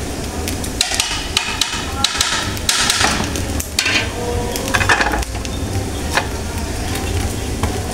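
Hot tempering is poured into a pan of kochu shak, giving a loud, steady sizzle with sharp clanks and scrapes of a metal utensil against the pot.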